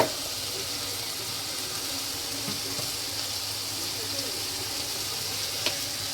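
Cooked rice tossed in a hot pan for fried rice, a steady broadband sizzle running throughout with a few faint clicks of stirring, close and even, no talk.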